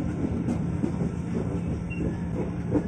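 An electric KRL commuter train runs on the rails near Pasar Minggu station in Jakarta, a steady rolling rumble with a continuous hum and faint wheel squeal throughout, with no voices.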